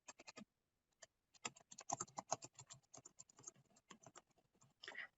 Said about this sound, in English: I'm just typing in a response to,